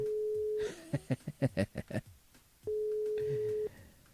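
A steady telephone line tone sounds during an on-air radio phone call, holding for under a second before a short burst of talk. The tone then returns for about a second.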